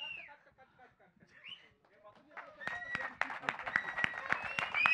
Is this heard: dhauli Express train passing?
no